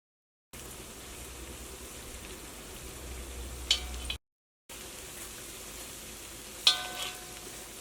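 A spicy, crispy rice flour and peanut snack fries in hot oil, giving a steady soft sizzle with a couple of brief sharper crackles, in two short stretches separated by a silent gap.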